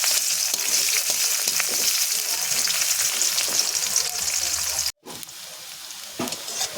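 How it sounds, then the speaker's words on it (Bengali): Chopped onion frying with a little cinnamon in a pan for an egg curry with coconut milk: a loud, dense, continuous sizzle with stirring scrapes, cut by a brief near-silent break before the frying resumes slightly quieter. "এবার এখানে দিয়ে দেবো একটা পেঁয়াজ কুচি, দিয়ে আমি একটু ভালো করে নাড়াচাড়া করে নেব।"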